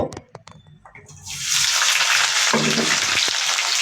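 Spices hit hot oil with a sudden sharp sizzle after a few faint knocks, then the steady close frying hiss holds to the end.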